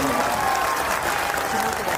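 An audience applauds steadily to welcome a guest at a ceremony unveiling an equestrian statue of Chhatrapati Shivaji Maharaj, a dense, sustained wash of clapping filling the whole stretch with a faint voice or tone threaded underneath.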